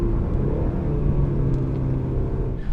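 A 2017 BMW 330i xDrive on a back road gives a steady, deep engine rumble through downshifts, heard from inside the car, continuous and fairly loud with slight shifts in pitch.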